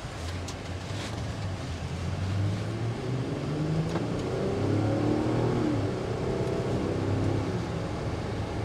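A 2025 Infiniti QX60 V6 engine accelerating onto an interstate, heard from inside the cabin as a steady rising drone with road and wind noise, no talk.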